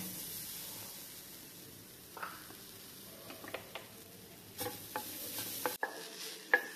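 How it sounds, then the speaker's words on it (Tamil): Grated coconut roasts in a kadai after frying, a quiet low hiss punctuated by sharp, scattered scrapes and taps of stirring that grow more frequent toward the end. "அதே கடாயில இந்த தேங்காயையும் நல்லா வறுத்து எடுத்துடலாம்."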